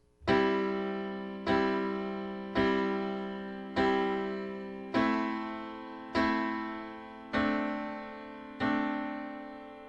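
Eight sustained piano chords struck at a steady, even pulse, each ringing and decaying slightly before the next; no voices.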